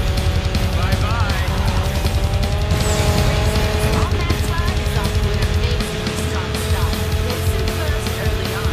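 Loud, sustained roar of a 900-horsepower race car engine in a Cars video game, steady high revving with tire noise, which drops to a lower rumble near the end.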